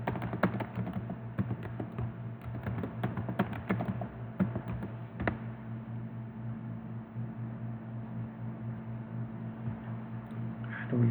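Computer keyboard keys are tapped in a quick irregular burst while a password for a local admin account on a server is entered, then go quiet, with a steady low electrical hum continuing underneath throughout.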